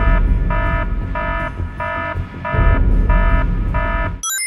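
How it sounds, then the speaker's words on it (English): A stock alarm sound effect from the game Batman: Arkham Asylum, a loud electronic tone beeping in a regular on-off pattern about seven times over a rumbling background, cut off abruptly at the end. "Stock alarm sound effect."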